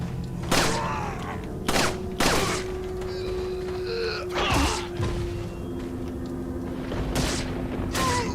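Several sharp rifle shots from a sniper rifle in Resident Evil 4, spaced a second or more apart and fairly loud, over a steady game ambience with a sustained tonal hum and occasional creaks.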